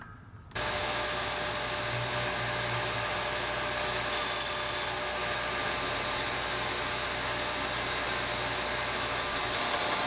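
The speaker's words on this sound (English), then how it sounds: "Back to the belt grinder." A belt grinder runs steadily, grinding plane irons cut from an old saw blade for small wooden finger planes; a loud, continuous broadband hiss and motor hum start abruptly after a brief quiet moment and hold constant throughout.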